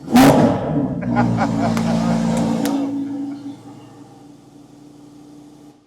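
A Lamborghini at a Houston dealership gives a loud, close rev that roars briefly, then settles and fades to a lower, quieter rumble.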